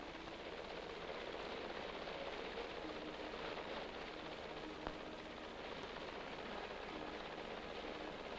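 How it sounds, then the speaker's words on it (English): A helicopter departs over an atomic test site to survey a bomb crater, heard as a faint, steady, distant rotor-and-engine wash with no talking. "A helicopter leaves to inspect the crater."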